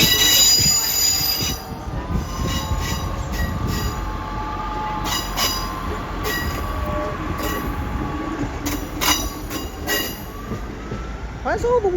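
A Class 158 diesel unit, 158910, moves through Doncaster station platforms. It gives a loud, steady rail rumble with high wheel squeal throughout, and faint station sounds sit behind it.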